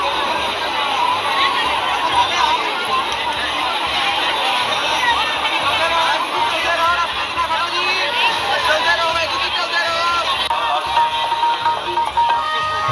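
A large crowd fills the Fatehgarh Sahib gurdwara celebration in Punjab, a dense continuous murmur of many voices and movement, fairly loud and steady throughout.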